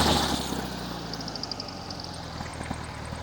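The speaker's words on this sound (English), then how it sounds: "you can hear the engine's like relatively smooth, but it's not completely smooth yet" A VW engine idles on choke while warming up, a low, steady running rumble with faint higher whine and small ticks on top, nearby and moderately quiet, with no talk.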